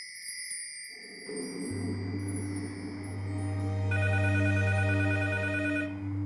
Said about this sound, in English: Until Raynella gets a phone call